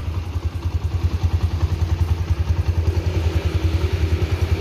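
A Honda Mega Pro Primus motorcycle engine running close by, a steady, smooth low thumping pulse with even rhythmic beats and light mechanical clatter throughout, no voices.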